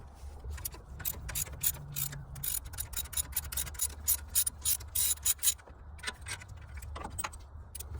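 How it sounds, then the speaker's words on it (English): A 15mm socket ratchet works loose an alternator bolt in a car engine bay, giving quiet, rapid clicking and rasping bursts in uneven runs, fairly close with no talk. "So now I'm gonna be using a 15mm socket like this one."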